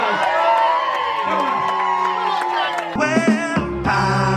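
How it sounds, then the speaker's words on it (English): Wedding guests cheer and whoop together in a lively crowd, the noise rising and dipping with music playing underneath. "Come on, guys, cheer him on."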